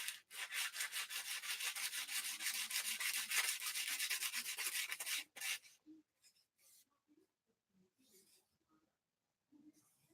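A carved wooden spoon is sanded with rapid, rasping back-and-forth strokes, close and steady for several seconds before stopping, followed by quiet handling sounds and faint speech.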